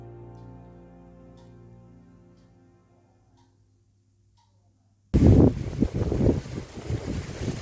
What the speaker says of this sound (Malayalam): നല്ല കാറ്റുണ്ട് ഈ കാറ്റ് നിങ്ങൾക്ക് എത്രത്തോളം ഉണ്ടെന്ന് കാണിച്ചു തരാനാണ് ഞാൻ ഈ ഒരു ഭാഗം ഷൂട്ട് ചെയ്തത്